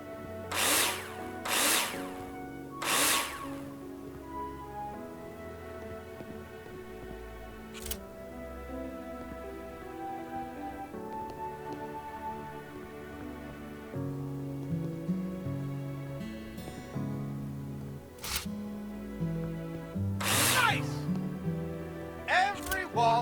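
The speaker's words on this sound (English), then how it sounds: "Take your drill out and screw them in." A power drill drives screws into plasterboard in the construction game Builder Simulator, producing several short whirring bursts spaced apart over a steady tonal game background.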